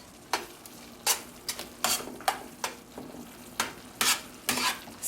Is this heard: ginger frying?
yes